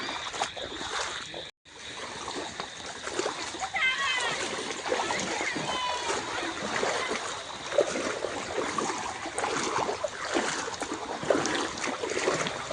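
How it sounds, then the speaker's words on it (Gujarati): Rainwater rushes and splashes into a farm field in a steady outdoor flow, with people talking loudly over the running water. "જો આ પાણી જાય અમારા હેતરમાં"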